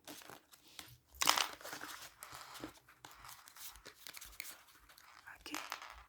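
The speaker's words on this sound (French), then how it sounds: "Je tire une dernière carte dans ce jeu." Oracle cards are shuffled and one is drawn from the deck, making soft crinkling, rustling and sliding sounds close by with a sharper flutter near the start, while someone speaks quietly.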